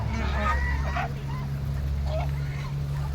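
Geese honk a few times at a moderate distance, short nasal calls rising over a steady low hum, with faint background sounds of a rural homestead.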